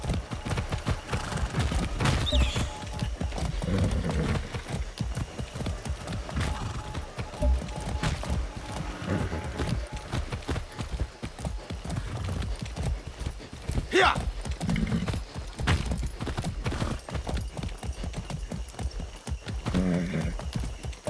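Steady rhythmic clip-clop of horse hooves in the video game Far Cry 6, with occasional clanks and a brief whinny, all fairly close and continuous.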